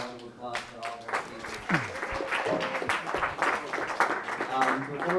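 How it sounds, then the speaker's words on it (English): A crowd at a New York meetup applauds its speakers, the clapping sustained and moderately loud beneath chatter and raised voices from the room. "Let's get another round of applause for all of our"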